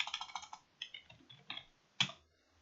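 Light, quick keystrokes on a computer keyboard, a short run of close, crisp clicks followed by a few scattered taps and one firmer key press, with no talk.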